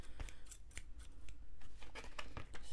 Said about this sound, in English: Then I have the Luxury Craft scissors.